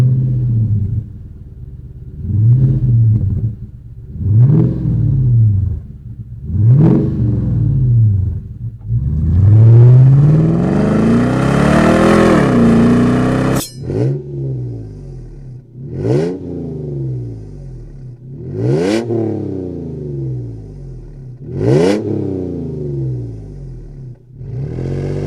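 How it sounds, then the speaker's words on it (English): A Toyota truck fitted with a Pypes performance exhaust, a 2005–2015 Tacoma 4.0-liter or 2014–2021 Tundra 4.6 or 5.7-liter V8, revs repeatedly. A long sustained rev in the middle is followed by a series of sharp blips, loud and close, with no talk. "Pypes Performance Exhaust delivers the power, sound, and reliability Toyota truck owners demand."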